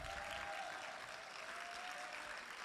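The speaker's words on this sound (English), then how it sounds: "Let's keep the round of applause going" A public safety event audience keeps up a round of applause, heard faint and distant as a soft, even wash of clapping with no voices on top.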